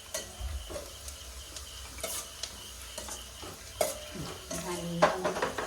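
Garlic and tomato stirred in a pan, with faint scraping strokes and soft clinks over a quiet sizzle, ending in a few sharper utensil taps.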